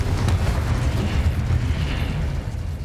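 A Confringo spell explosion in the video game Hogwarts Legacy, a dense rumbling boom that fills the whole short moment with heavy low roar and crackle.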